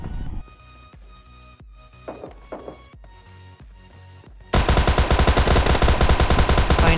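Gunfire in the PUBG Lite mobile game: several separate sharp shots spaced across the first seconds, then a loud dense stretch of rapid continuous automatic fire to the end.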